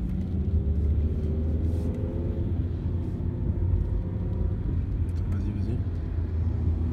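A sports car overtakes on the Nürburgring, heard from inside a Peugeot 207 SW. A constant low engine and road rumble fills the cabin, and a faint rising engine note passes near the end while someone talks.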